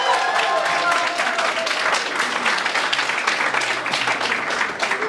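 A crowd at a youth jam session in a community culture centre applauds steadily for an electric bass player, dense clapping held at an even level throughout.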